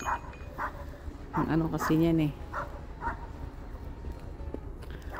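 A dog barks a few times at a distance while a person talks over it.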